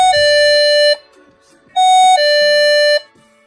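An APO DK-2800 access control keypad, wired to a split decoder, sounds its doorbell output as a loud, clear two-tone electronic ding-dong chime played twice, with a short pause between.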